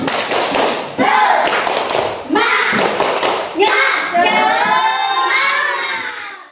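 A classroom of schoolchildren doing a rhythmic clap routine, with loud claps and thumps in patterned bursts mixed with shouted chanting voices.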